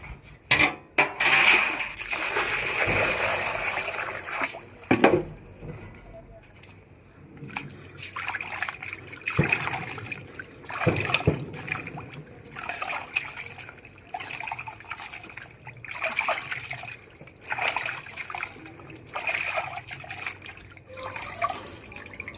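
Boti (goat tripe) is washed by hand in water, with sloshing, squelching and the clatter of a metal vessel. The rinsing repeats irregularly and close, with dripping and no speech.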